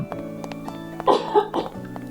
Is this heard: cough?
yes